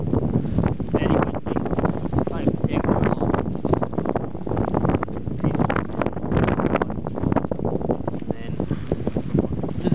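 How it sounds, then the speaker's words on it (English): Loud, gusty wind by a loch buffets the microphone in a rough, continuous roar that surges and dips throughout. "So it's a bit windy"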